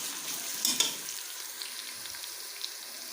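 Onions fry for moong daal in a pan, giving a continuous, soft crackling sizzle with a couple of louder scraping stirs near the start, heard alone at a close, moderate level.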